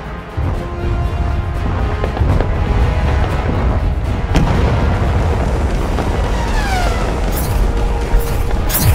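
Weapons fire and explosions in a space battle at Titan, a dense continuous roar of booms and blasts with sharp bursts and sweeping tones, loud and sustained throughout.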